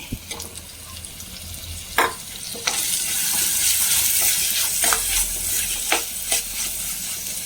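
Chopped tomato frying with wilted onions in a pan for fish curry, a loud broad sizzle that swells after the tomato goes in, with sharp spatula scrapes and clicks scattered over it, close and steady.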